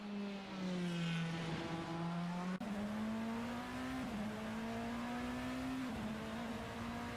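Race car in a sim racing qualifying session at Daytona, a steady engine drone rising gradually in pitch with brief dips at gear changes, heard alone at moderate distance.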